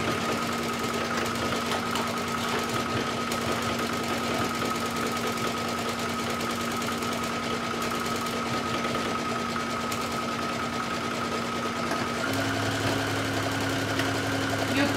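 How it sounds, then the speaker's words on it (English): A sewing machine runs steadily sewing a wide zigzag stitch on swimwear fabric, a continuous close mechanical hum and rapid needle chatter that shifts slightly in pitch near the end. "I'm going to stitch them down with a zigzag stitch"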